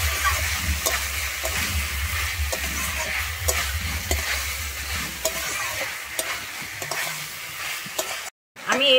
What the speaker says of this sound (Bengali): দিয়ে আমি মশলার সঙ্গে ভালোভাবে মিশিয়ে নিচ্ছি।